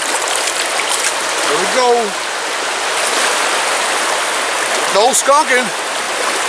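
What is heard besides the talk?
high, fast-flowing creek water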